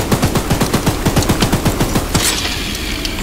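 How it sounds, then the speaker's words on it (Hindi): Rapid automatic gunfire in the video game Choo-Choo Charles, a loud, close string of about fifteen evenly spaced shots, followed by a brief hissing burst and then a fading tail. "तब तक थोड़ी सी फायरिंग करें"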